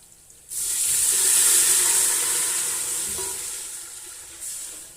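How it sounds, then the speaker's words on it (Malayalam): Water is poured into a pot in one steady rushing stream after a brief quiet start, slowly easing off before a short final splash. "വെള്ളം ഒഴിച്ച് കൊടുക്കണം കേട്ടോ"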